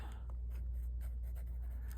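A soft 6B pencil scratching across journal paper in short, uneven strokes, quiet and close against a steady low hum, with no voices.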